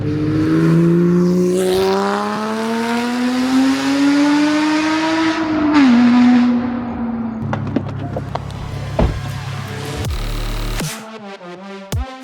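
A Porsche GT4 with a valved exhaust revs up loudly in a long rising pull, shifts, then burbles and crackles through a throaty exhaust as it slows, close by.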